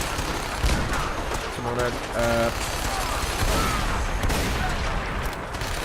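Gunfire in the Fallout 4 video game during a battle at Bunker Hill, a dense clatter of shots and booms layered with game effects under continuous player talk.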